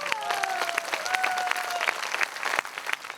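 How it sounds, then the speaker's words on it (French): A crowd applauds the newly crowned Miss Hérisson 85 at a village festival, dense steady clapping with a few whistles threading through, sustained for a few seconds. "Vous pouvez l'applaudir pendant qu'elle est là"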